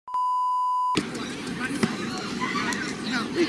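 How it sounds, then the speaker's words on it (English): A steady electronic buzzer tone sounds loudly for just under a second, then cuts off into a noisy room with people talking and moving about. "Buzzer."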